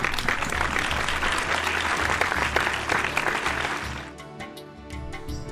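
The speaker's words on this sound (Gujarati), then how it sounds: "તો તાળીઓ વગાડો ને મારા ભાઈ." An audience at a 75th anniversary celebration slide show applauds, a dense burst of many hands clapping that thins out into a few scattered claps near the end.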